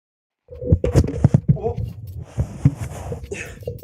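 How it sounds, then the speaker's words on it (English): A microphone is knocked off a desk during a European Pro League Season 13 esports broadcast, giving a cluster of close, loud thumps and clatters followed by rustling handling noise and muffled bumps. "I was stretching and I just pulled my microphone off the table"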